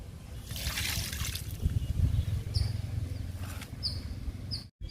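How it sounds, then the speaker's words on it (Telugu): Liquid fertilizer poured onto a curry leaf plant, a steady close trickle and splash of liquid into soil lasting several seconds, with faint outdoor background sounds. "కరివేపాకు మొక్కకి లిక్విడ్ ఇస్తున్నాను"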